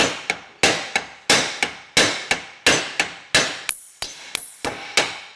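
Sharp metal hammer blows knock loose a seized propeller shaft, about fourteen loud close strikes in an irregular rhythm, each ringing briefly.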